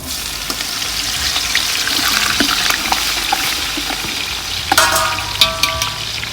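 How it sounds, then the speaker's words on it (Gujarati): Green garlic fries among whole spices for a winter tuver tothā dish, a loud continuous sizzle and crackle with occasional utensil knocks and a brief clatter near the end. "લસણને બરાબર શેકાવા દીધું"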